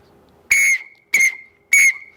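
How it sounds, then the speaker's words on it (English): A bright, powerful whistle-like instrument used for parades and processions sounds three short, piercing blasts in steady succession, each a clear high tone with a quick decay and brief silences between. "it actually has that whistle sound."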